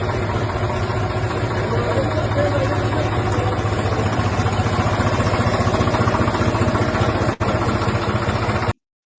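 A tractor engine idles steadily up close, a continuous low throbbing rumble that holds at one level before cutting off near the end. No one speaks.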